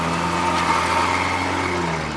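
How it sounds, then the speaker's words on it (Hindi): An auto-rickshaw engine runs close by with a steady, droning hum and rough low rumble, loud and unbroken for the whole stretch. "मुझे लगता है जी इसका इंजन जवाब दे गया"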